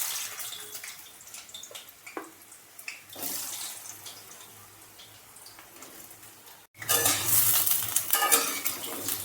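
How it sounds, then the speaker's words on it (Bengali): Halved potato pieces fry in hot oil in a pan while a utensil scrapes and stirs them, with a soft sizzle, intermittent clinks and a louder burst of frying toward the end. "নিয়ে এই আলুগুলো আমি আগে একটু ভেজে নিচ্ছি"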